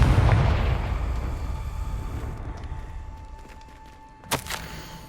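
A Confringo blasting spell explodes in the video game Hogwarts Legacy on PS5: a loud low boom that rumbles and slowly fades, followed by a sharp crackling burst near the end.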